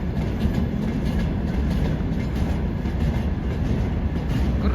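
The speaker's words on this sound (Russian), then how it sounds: "Ой, какой он длинный. Ты не считаешь, Ань, вагоны?" A long freight train rolls past at a steady pace, its wagons producing a continuous loud rumble with rhythmic clickety-clack of wheels over rail joints, no voices.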